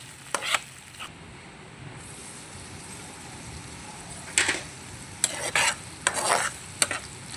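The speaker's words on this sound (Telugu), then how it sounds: "ఒకసారి తిప్పుతాను టూ మినిట్స్ వదిలేయండి" Food frying in a pan is stirred in several scraping bursts over a steady sizzle, with some bursts close together and others spaced apart. The sizzle is fairly quiet between bursts, and no one speaks.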